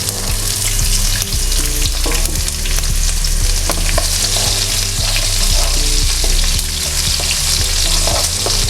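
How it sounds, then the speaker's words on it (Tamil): Small onions dropped into hot oil with popping mustard seeds, frying and being stirred for a kuzhambu: a loud, steady crackling sizzle with scraping stir strokes throughout, close and continuous with no voices. "இப்போ சின்ன வெங்காயம் கட் பண்ணி வச்சுருக்க வெங்காயத்தை சேர்த்துடலாம்."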